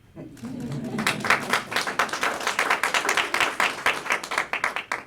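A small group at a swearing-in ceremony claps steadily, a rhythmic patter of hand claps building after a brief voice at the start.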